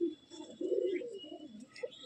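A flying pigeon at a loft in Bamangachi, from a bloodline racing stock, coos in quiet, low, warbling phrases, close by, with a faint higher chirp in the background.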